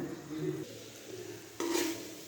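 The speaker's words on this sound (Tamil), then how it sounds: "சாதம் போட்டு கிண்டிக்கலாங்க கொஞ்சம் கொஞ்சமாக போட்டு கிண்டிக்கலாங்க" Cooked rice being stirred into a reduced tamarind mixture in a pan, giving soft scraping and utensil clinks against the metal, with a brief louder scrape near the end; no talking.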